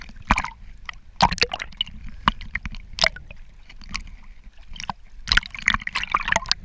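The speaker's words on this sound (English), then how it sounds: "and there are small waves" Small sea waves splash and slosh around a swimmer in clear, windy water off Menorca, with irregular close splashes and bursts of water noise over a low wind rumble, no talking.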